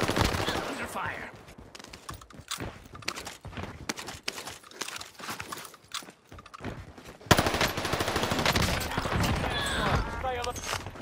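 Call of Duty: Modern Warfare gunfire crackles in rapid automatic bursts and scattered shots, some near and some distant, with a louder, denser stretch of firing in the last few seconds alongside game radio voices.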